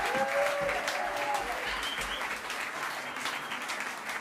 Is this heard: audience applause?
yes